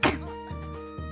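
A single sharp sneeze bursts out at the start, loud and close, followed by a quiet low hum with faint rhythmic pulses.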